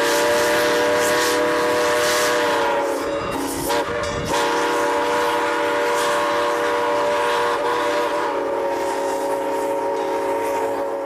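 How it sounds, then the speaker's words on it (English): A steam locomotive chugs steadily along rails while running around to couple onto the other end of its train, with a sustained whistle-like tonal drone, loud and close, and a brief burst of hissing steam partway through. "the locomotive runs around the building to couple on to the other end of the train"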